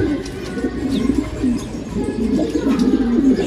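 Mulemans pigeons cooing, a run of soft low throaty coos repeating in quick rhythmic phrases close by, with faint background noise and no talk.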